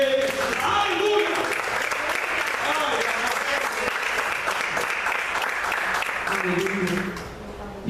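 A church congregation claps steadily and loudly for several seconds, with voices and cheers mixed into the dense clapping before it starts to fade near the end.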